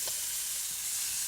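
Beef with orange stir-frying in a hot wok, giving a steady, soft sizzle and hiss throughout with a faint stir near the start.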